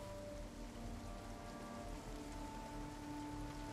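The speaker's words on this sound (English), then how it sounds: "Moderate rain." Moderate rain in the survival video game Project Zomboid, a dense, even patter of drops on surfaces that continues without a break, with a low rumble underneath and a faint sustained tone.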